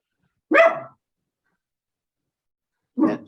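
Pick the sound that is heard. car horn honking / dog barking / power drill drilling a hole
dog barking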